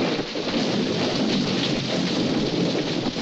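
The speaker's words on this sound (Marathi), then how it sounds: "खूप पाऊस आहे ना?" Heavy rain pours in a steady, dense roar with low thunder rumbling beneath it, loud and continuous throughout with no talk.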